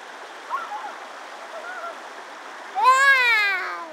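Water flows steadily as a soft, continuous stream hiss in the background, with brief vocal sounds near the start and a loud child's squeal rising over it toward the end.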